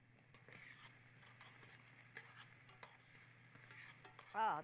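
Salmon and scallions sizzle in a pan with a soft, steady frying hiss, punctuated by light stirring scrapes and clicks of a utensil, quiet and close, with a brief louder clatter near the end.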